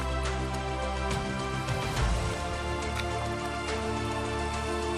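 Katara waterfall in Karnataka roars with a steady, dense rush of falling water, loud and continuous throughout with no voices.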